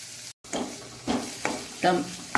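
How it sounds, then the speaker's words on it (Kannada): Onions and finely chopped tomato fry in a pan for a masala dosa filling, with several short scraping stirs over a soft sizzle. "ಈರುಳ್ಳಿ ಸ್ವಲ್ಪ ಬಾಡುವಾಗ ಒಂದು ಸಣ್ಣದಾಗಿ ಹೆಚ್ಚಿಟ್ಟ ಟೊಮ್ಯಾಟೊವನ್ನು ಹಾಕ್ಕೊಳ್ತಿದ್ದೇನೆ"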